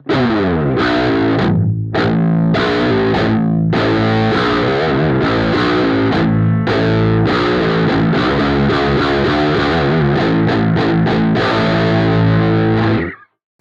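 Heavy distorted electric guitar through an Axe-Fx III amp modeler at stock settings, tuned down to A, chugging and ringing chords, dense and loud, playing continuously for over ten seconds before stopping abruptly.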